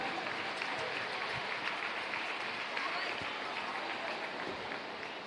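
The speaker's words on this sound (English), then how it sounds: "put your hands together and give a nice warm round of applause for your top 10 girls" Crowd applauding the top 10 girls of the 13-14 200 IM at a swimming age group championship awards, continuous broad clapping filling a large hall, with some cheering and voices under it.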